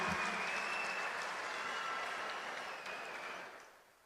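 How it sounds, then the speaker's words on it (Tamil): Enthusiastic applause from an audience of women at a Tamil public event, a dense, steady clatter of clapping that holds loud for about three seconds, then thins and fades out at the end. "உற்சாகமா கைத்தட்டல்களை வழங்கின சகோதரிகள் அனைவருக்கும் என்னுடைய நன்றி"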